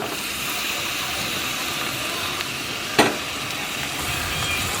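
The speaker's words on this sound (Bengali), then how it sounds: "ধুয়ে রাখা মাটনগুলো এখন দিয়ে দিচ্ছি।" Washed mutton pieces going into a hot pan with garlic, giving a continuous close sizzle with one sharp clatter and hiss partway through as the meat hits the pan.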